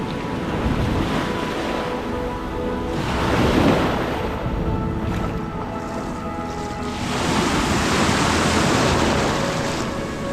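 Surf rolling onto a beach, a steady loud wash of breaking waves that swells and eases twice, mixed with gusty wind buffeting close by and no voices.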